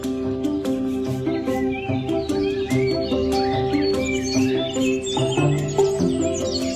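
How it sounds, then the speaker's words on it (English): Amami thrush parent feeding its chicks, with repeated high chirps and tweets from the young birds over a steady layered background, fairly close and continuous throughout. "Watch as the parent Amami thrush nourishes its little ones with tiny,"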